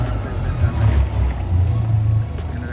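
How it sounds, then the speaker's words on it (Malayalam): A fishing boat's engine starts at sea off Oman, giving a short, steady low rumble close by. "ഒരു എൻജിൻ സ്റ്റാർട്ടായി."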